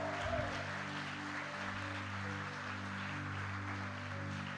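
A church congregation applauds softly and steadily at a distance, the clapping faint beneath sustained organ or keyboard tones.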